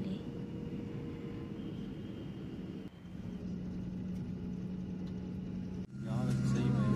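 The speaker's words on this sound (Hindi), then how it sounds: "लैंड होने वाला है फ्लाइट।" A passenger airplane taxis after landing on a flight to Delhi, its engines giving a steady, muffled cabin rumble and hum heard from inside, with a couple of brief dips and a louder, shifting whine toward the end.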